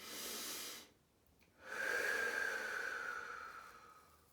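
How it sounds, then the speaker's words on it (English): Slow, audible breathing during self-applied acupressure to the occipital muscles: a hissing exhale, a pause, then a long drawn breath, close and unaccompanied by speech. "just holding and breathing."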